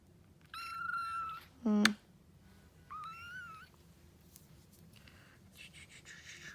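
Kittens give several short, high meows with quiet gaps between them, close by and fairly soft.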